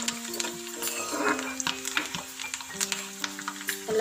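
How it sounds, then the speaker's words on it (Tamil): Masala egg fry sizzling with curry leaves in a pan, a steady crackling fry with frequent scraping and stirring clatter, close and fairly loud throughout, with no talk. "நல்லா ஃப்ரையாக இருக்குது. இப்போ எடுத்துடலாம்."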